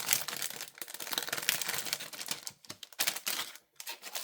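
A paper card is drawn out and handled up close, giving a run of crisp rustling, crinkling and tapping sounds that come and go in quick irregular bursts, with no talk.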